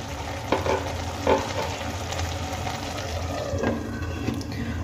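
Cabbage vegetable curry sizzling in a covered pan, a steady bubbling fry with a few soft clinks of utensil or lid, continuous and fairly close.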